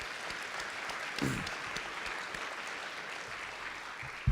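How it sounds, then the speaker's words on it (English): Applause from an audience at a hospital leadership away day, a steady broadband patter of many hands clapping throughout, with brief talk near the start and end. "another round of applause, Keith"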